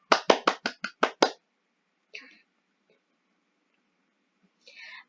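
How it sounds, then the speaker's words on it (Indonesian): A class of children in a classroom claps hands in seven quick, loud, regular beats. Quiet murmurs and brief whispers follow. "Beri tepuk tangannya"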